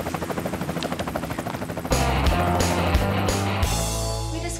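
A helicopter lands: rhythmic rotor thumping gives way to a louder, dense roar of engine and downwash, close and continuous, with no talk.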